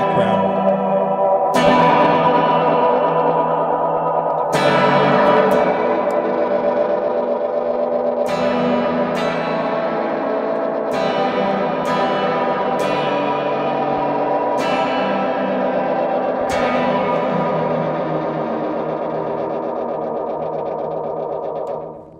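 Electric guitar played through a Paradox Effects pedal, giving a mournful, melancholic tone: sustained distorted chords drenched in echo and chorus, with fresh strums every few seconds ringing out over a long reverberant wash.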